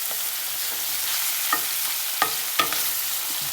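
Chopped onions, green chillies and garlic fry in a pan with a steady close sizzle, a few sharp scraping clicks from the stirring spoon breaking through, no voices.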